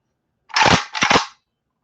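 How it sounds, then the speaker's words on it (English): Two sharp rifle gunshots crack in quick succession, loud and close, followed by silence. "Let's hear that peasant rifle."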